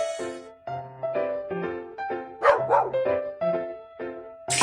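A dog barks several times in quick succession, loud and close, with short sharp yaps mixed into the run.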